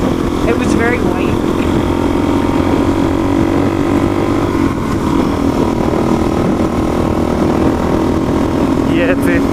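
Motorcycle running in fifth gear on Independence Pass, a loud, steady engine and wind roar heard from the rider's position, with people talking under the noise.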